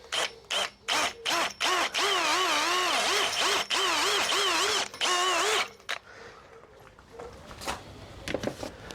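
A power drill starts with a few short bursts, then whines steadily for several seconds while its pitch wavers under load, then stops and quieter handling noises follow.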